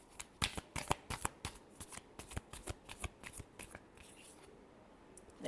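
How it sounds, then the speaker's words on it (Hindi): Tarot cards being shuffled by hand, a run of crisp riffling flicks in quick succession, close and fairly quiet, thinning out toward the end. "Last shuffle."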